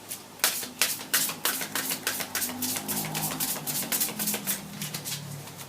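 Oracle cards being shuffled and cut, a rapid run of soft, crisp riffling flicks close to the microphone, steady in rhythm with no voice over them.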